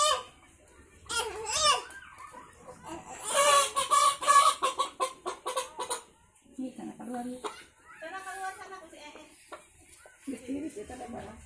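A chicken clucks in short bursts near a toddler, mixed with the child's babbling and an adult talking close by in a home setting.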